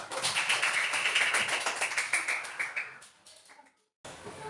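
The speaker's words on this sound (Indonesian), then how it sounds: "tepuk tangan untuk kelompok tiga" Classroom of fifth-grade pupils clapping for group three, a dense burst of many hands that thins into scattered claps and stops, followed by a brief return of room noise.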